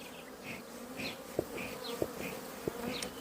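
Honey bees drone and buzz around an open hive during an inspection in which frames are added, a close, steady hum with individual bees whining past and a few soft knocks against the wood.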